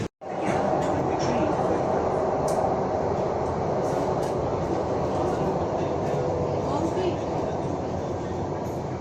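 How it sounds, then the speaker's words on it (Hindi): A metro train rumbles steadily at a station, a loud, continuous roar of rail noise with faint clatter, with voices mixed in underneath. "हम आ चुके हैं मेट्रो स्टेशन पे, सीधे मेट्रो से।"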